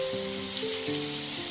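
Rava semiya cutlets frying in hot oil, giving a steady close sizzle and crackle with small pops, continuous and without talk.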